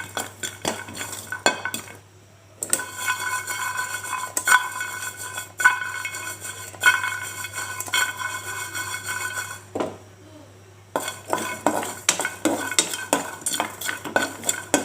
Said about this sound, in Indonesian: Ini ada jinten dan kemiri, kita sangrai dulu, nanti baru kita haluskan.